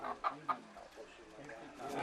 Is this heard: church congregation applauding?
no